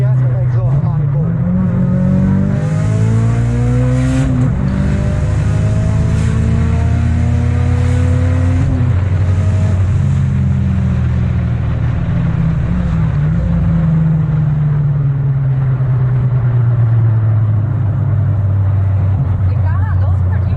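A circuit-built Mitsubishi Lancer Evolution VI rally car's turbocharged engine hums and revs steadily throughout, its exhaust note rising and falling, with people talking over it inside the cabin.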